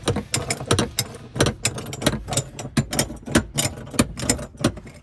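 A ratcheting tool runs bolts back down into the holes of a DIY sleeping and storage platform in a Jeep Wrangler, giving rapid rhythmic clicking and whirring bursts close up, without speech.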